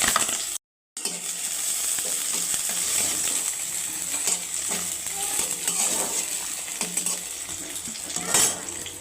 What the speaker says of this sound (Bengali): এই যে এখানটায় রসুন আর পেঁয়াজটা আমি ভেজে নেব।